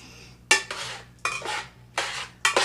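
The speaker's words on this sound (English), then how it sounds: "tongs would be the easiest thing for you to move it around, mix it all around" Metal tongs clatter and scrape against a pan while fettuccine is tossed through alfredo sauce, four sharp clanks at uneven intervals, each one trailing into a wet slithering stir, close by and with no voices.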